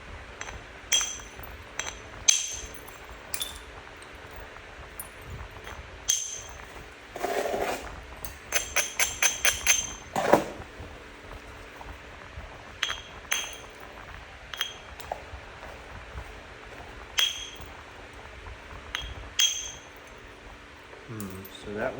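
Rising flakes are pressed off a gold jasper arrowhead, giving sharp glassy clicks and pings scattered in irregular bursts, with a quick rattling run of taps near the middle, close and fairly quiet.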